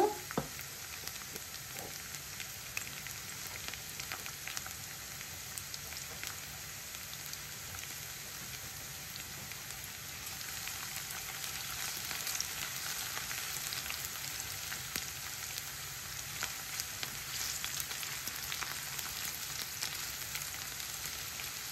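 Small chopped pieces of garlic fry in oil toward golden, a soft, steady sizzle and crackle like light rain, continuous and fairly faint with no talk.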